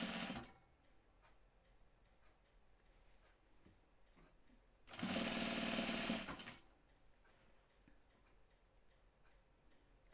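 A sewing machine stitches a V-neck neckline in knit fabric, a loud steady whirring run of about two seconds in the middle, set between quiet ticking and faint handling.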